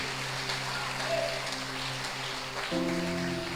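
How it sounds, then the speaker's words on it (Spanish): A church congregation applauds during a sermon, a dense, steady patter of clapping over sustained organ-like musical tones that shift pitch partway through. "Dale el aplauso fuerte a Dios"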